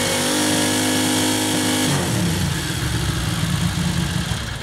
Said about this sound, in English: we're going to rev the engine up and check the charging system